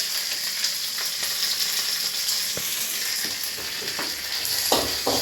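Curry leaves and asafoetida sizzle in hot oil with mustard seeds, a steady crackling hiss dotted with sharp pops and spatters, close and continuous with no voices.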